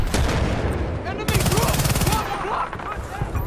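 Rapid gunfire bursts in Battlefield Bad Company 2, with a fast run of close, loud shots in the middle over background game noise, while someone talks over it.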